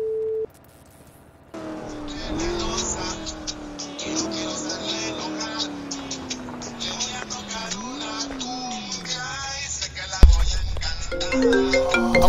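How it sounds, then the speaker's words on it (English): A phone ringtone plays as a steady electronic melody over a busy backdrop that sounds like a car or racing noise, then ends in a louder burst of other sounds. "My phone ringing, fuck."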